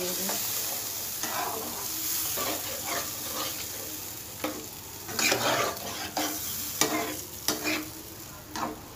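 A spoon stirs mutton kosha curry in a hot pan, scraping and sloshing in irregular strokes over a steady sizzle of frying, close and fairly loud.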